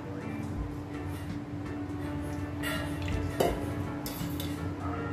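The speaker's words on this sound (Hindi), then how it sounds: "अब हम सबसे पहले कढ़ाई लेंगे, कढ़ाई में छोटे वाले चम्मच से 3 चम्मच ऑयल लेना है" A kadhai is set down and oil spooned into it in a home kitchen, giving light metallic clinks and scrapes of a small spoon against the pan, soft and close over a low background hum.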